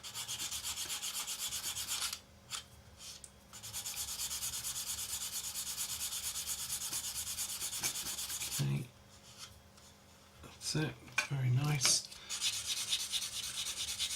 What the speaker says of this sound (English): Sanding sponge.